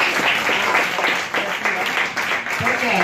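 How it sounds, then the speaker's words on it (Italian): A room of people at a business seminar clapping in a dense, even burst of applause that carries on for a few seconds, with voices mixed underneath. "Un applauso Michael!"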